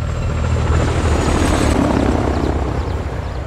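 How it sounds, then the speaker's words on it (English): A helicopter approaches in Call of Duty: Modern Warfare 2, its rotor thumping in a loud, steady, close drone with a high whine running above it. "Got a heli incoming."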